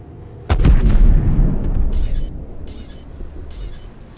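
Cannon fire aboard a ship in a pirate video game: one loud, close boom with a rumbling tail that slowly decays, followed by faint distant thuds.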